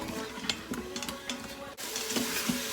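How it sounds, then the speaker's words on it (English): Carrots, onions and garlic sauteing in a pot, a soft continuous sizzle with several light scraping stirs of a utensil against the pot, fairly close and quiet. "once you saute those carrots, the onions, and the garlic a little bit"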